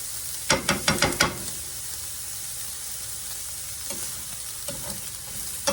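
Onions fry in a pan for pork fried rice, a steady close sizzle running throughout, with a quick series of five or six sharp stirring scrapes early on and a few lighter clinks later.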